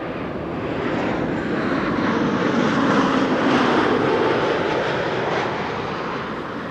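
A Boeing 737 MAX 8 airliner arrives at Amsterdam Schiphol Airport, its engine roar loud and broad, swelling to a peak mid-pass and then easing off, with no talking.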